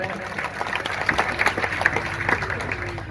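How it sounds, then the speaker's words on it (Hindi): An audience at a Hindi kavi sammelan (poetry gathering) bursts into applause, a dense, lively patter of many hands clapping at once that continues steadily throughout, with a voice faintly audible over it. "एक बार ताली बजाकर मुझे आदेशित करें।"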